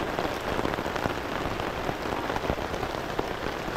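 Steady rain pours down in a dense, even hiss with scattered close drops pattering on surfaces, continuous and fairly loud with no voices.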